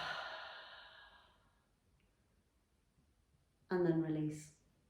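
A slow, deep breath during a fascia neck stretch, one long exhale fading at the start, then a near silent pause and a short, voiced sigh-like breath toward the end.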